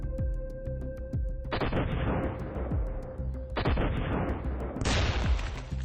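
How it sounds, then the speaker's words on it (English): Three heavy blasts of grenades detonating inside a wartime dugout, each a loud, booming burst with a long rumbling decay, spaced about two seconds apart over a constant buzzing drone. "So he walks around the dugout and throws 3 grenades through the firing hole."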